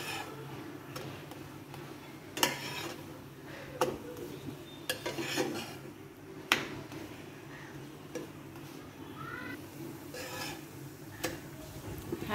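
Pancake batter cooking in a nonstick frying pan, with a faint low sizzle under intermittent sharp clicks and taps of a utensil against the pan, spaced irregularly.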